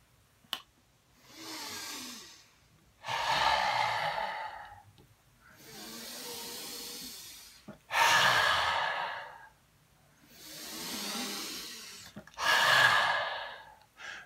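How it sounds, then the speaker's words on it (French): Forceful mouth exhalations of Simha Mudra, the yoga lion breath, several breathy outward rushes of air in an even rhythm, each lasting about two seconds with quieter gaps between, close and clear. "expirer par la bouche comme ceci"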